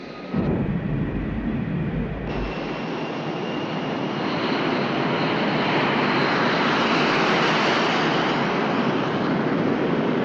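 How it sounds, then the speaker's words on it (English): An aircraft on takeoff roll with canopy closed, its engine spooling up to a loud, steady roar that builds and holds throughout, heard from close, as if onboard. "You're cleared for takeoff."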